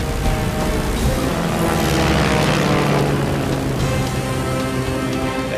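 A World War I fighter plane's propeller engine drones steadily and loudly through a dogfight, a continuous close roar with a slight rise and fall in pitch.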